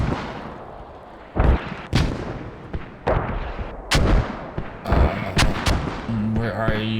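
Gunfire in the military shooter game Squad, aimed at a radio: a string of sharp, loud shots in irregular bursts, with some sounding like heavier blasts, over a steady background of battle noise.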